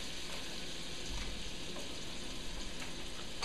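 Butter sizzling in a fry pan, ahead of fish for tacos: a steady, soft crackling hiss that runs evenly throughout, with no voices.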